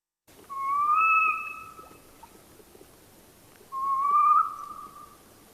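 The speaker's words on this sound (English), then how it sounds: "It's called the saw-whet owl because I'm going to play this call first." A saw-whet owl gives two drawn-out whistled calls, each about a second long and separated by a pause of a couple of seconds, with nothing else heard.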